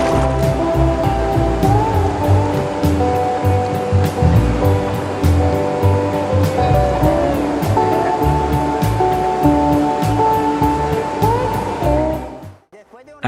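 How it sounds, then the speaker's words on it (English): A rapid on the Guejar River rushes loudly and continuously, a dense, steady roar of churning water close by that holds throughout before cutting off abruptly at the end. "There is a rapid of the Guejar River there."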